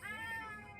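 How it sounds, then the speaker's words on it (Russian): A cat meows from inside a machine in a veterinary clinic video game: one short, close, tonal meow standing alone with no talk. "Кошка там орёт в этой штуковине."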